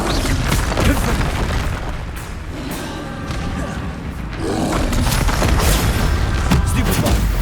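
In the Hogwarts Legacy video game, Bombarda and Confringo spells go off as loud, booming explosions, a dense rumbling blast that swells again midway and keeps a heavy, sustained crash close up.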